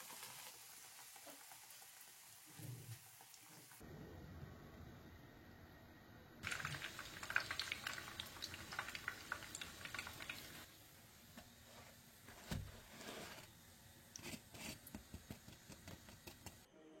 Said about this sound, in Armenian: կրակն իջեցնում եմ ու սկսում տապակել։